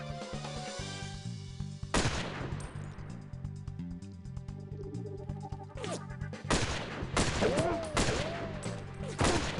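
Gunfire in the N64 game 007: The World Is Not Enough, several sharp shots and bursts over a steady droning game soundtrack, loud and close, with some whistling tones.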